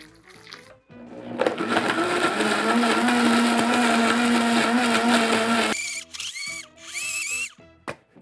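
A kitchen blender grinds frozen strawberries with soju, whirring loudly and steadily for several seconds, then stopping and restarting in short bursts, with brief clatter between.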